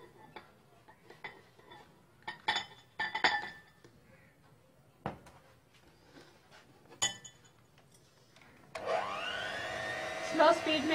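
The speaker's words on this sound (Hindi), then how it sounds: "स्लो स्पीड में हम इसको बीट करेंगे।" An electric beater whirs at slow speed through pineapple cake batter near the end, after a stretch of scattered glass clinks and bowl knocks.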